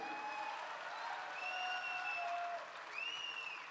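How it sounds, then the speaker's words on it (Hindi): Audience at a stock-market talk event applauds in a continuous, even wash of clapping, fairly soft and steady, with tonal stage sounds faintly overlaid. "पहले तो जोरदार तालियां होनी चाहिए नीतीश सर के लिए।"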